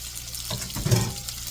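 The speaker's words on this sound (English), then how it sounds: "Wash my hands here." Hands being washed under a running kitchen tap, a short, close hiss of flowing water with a brief splashing burst in the middle, no voices.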